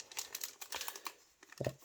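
Plastic Pokémon booster pack wrapper from an Elite Trainer Box being cut open with scissors, close-up crinkling and crackling bursts in quick succession with a brief sharper snip near the end.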